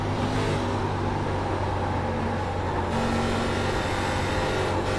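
Steady, loud race car engine drone from a sim racing game at Kentucky Speedway, a continuous high-revving roar that holds nearly level throughout with no breaks.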